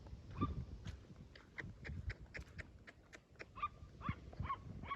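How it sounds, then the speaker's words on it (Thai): A dog barks repeatedly outdoors among trees, a series of fairly loud, close barks spaced irregularly across the stretch over a rumbling background. "โอ้มันเห่าดังเลยตัวนี้"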